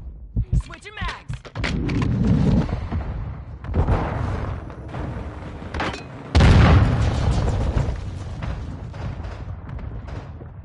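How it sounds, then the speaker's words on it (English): Mortar strike explosions in a Call of Duty match land as heavy, close booms and thuds, with one big blast near the middle, layered over gunfire and battle noise. "Friendly mortar strike on the way."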